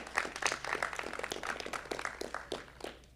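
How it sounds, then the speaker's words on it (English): Graduates at a graduation ceremony clap for their families, a light, scattered applause of separate, uneven hand claps at moderate distance, thinning out toward the end. "if you just give them a big clap again, just all of you, to your families."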